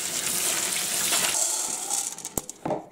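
Water runs steadily from a tap over dried beans being rinsed, a continuous gushing stream that thins out near the end, with a short clack and some light splashing.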